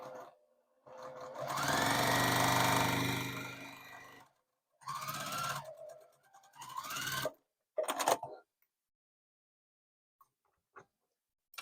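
A sewing machine stitches quilt fabric in short close bursts: one long run, two briefer runs and a quick final spurt, separated by silence with a couple of faint clicks.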